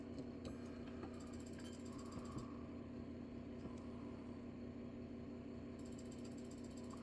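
Welding a hollow chain necklace: a steady, close buzzing hum runs throughout with faint clicks and ticks scattered over it, no voices.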